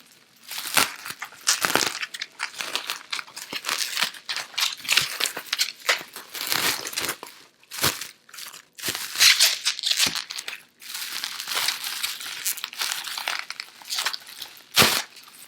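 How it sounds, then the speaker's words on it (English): Light bubble wrap crinkling and crackling around a Longines Hydroconquest 41mm watch during unboxing: close, irregular bursts of rustling and popping that come in clusters with brief pauses, sustained throughout. "Some light bubble wrap"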